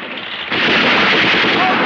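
Gunfire erupts in a 1984 action comedy shootout, a loud dense burst of shots that swells abruptly after a quieter lead-in and stays intense and continuous to the end.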